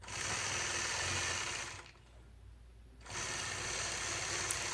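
A sewing machine runs steadily while stitching straight lines across a quilt block, a continuous close motor whir that pauses for about a second in the middle and then resumes at the same pace.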